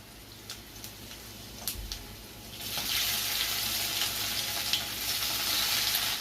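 Boiled potatoes hit hot oil with turmeric, asafoetida and chilli in a pan over a low flame, bringing up a steady sizzle with a few light taps and stirring scrapes, close and fairly quiet.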